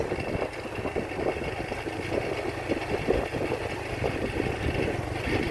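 A motorbike engine hums steadily during a riding lesson in a residential area, a moderate continuous drone with slight fluctuations, close and without pauses.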